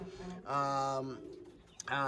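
Pigeons on an organic pigeon breeding farm in Uganda give a couple of close, full cooing calls, a short warbling coo followed by a brief pause and another coo near the end, with no talk over them.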